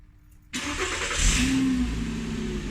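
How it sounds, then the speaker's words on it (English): A VW car engine, just after throttle body work, cranks and catches after a half second of near silence, then settles into a steady, loud idle with a brief mid-range whine partway through. "now it's just a matter of starting it up, make sure the idle's good"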